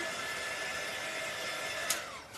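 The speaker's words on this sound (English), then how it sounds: "I'm just gonna hit them a little bit with the dryer to kind of get off that extra glitter" Hair dryer blowing steady air over freshly glittered DIY ornaments, a continuous close whirring hiss that holds level for a couple of seconds before a brief bump and slight tapering.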